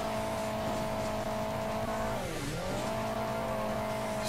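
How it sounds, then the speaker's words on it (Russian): A truck engine in Hill Climb Racing 2 holds a steady high rev, then sags briefly and climbs back, a continuous close drone with a faint scrape of tires running beneath it. "Смотри, смотри, как фура там наяривает"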